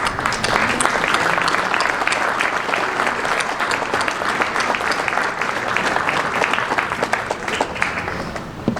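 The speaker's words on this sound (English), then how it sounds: "I either want you to raise your hand or stand up because you need an applause" An audience at a Veterans Day ceremony applauds World War II veterans, with warm, continuous clapping and some individually distinct, sharper claps standing out over the steady wash.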